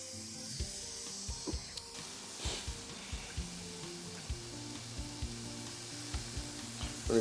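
Chicken and beef sizzling steadily in a hot pan, a constant crackling fry with occasional scraping and stirring knocks, close up and without talking.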